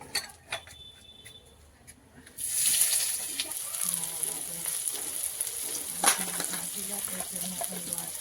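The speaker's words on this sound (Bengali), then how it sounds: "কড়াইতে আবারও তেল দিয়ে দিয়েছি আর এবার দিয়ে দেবো একটু পেঁয়াজ কুচি" A loud burst of sizzling as chopped onion hits hot oil in a wok, then a steady crackling fry with faint clinks and stirring; the first seconds are quiet.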